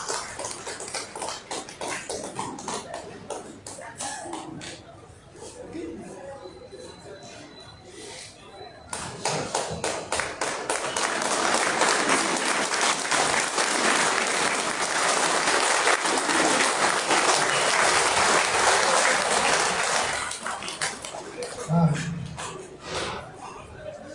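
Applause from a meeting-hall audience welcoming the national president, sustained clapping swelling for several seconds after talk and continuing loudly before fading near the end.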